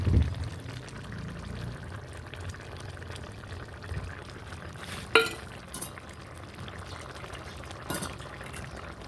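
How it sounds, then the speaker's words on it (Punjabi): Malai cream is added to a creamy onion sabzi in a pan, a quiet soft pour with a few sharp clinks of a spoon against the vessel and low background hiss. "ਹੁਣ ਅਸੀਂ ਇਹਦੇ ਵਿੱਚ ਪਾ ਲਾਂਗੇ ਮਲਾਈ"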